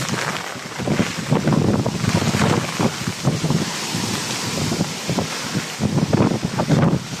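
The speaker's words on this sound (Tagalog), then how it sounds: "lakas ng hangin" Strong typhoon wind from Typhoon Nando roars and batters the microphone continuously, with surging rumbles like rough floodwater in the background.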